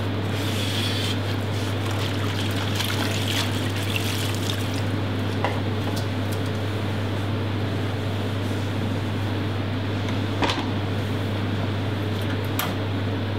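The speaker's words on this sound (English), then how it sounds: "just open the valve so water can go out" Water drains out through the opened valve of a VarioCookingCenter commercial cooking unit, a continuous trickling pour over a constant low machine hum, steady for the whole stretch with no speech.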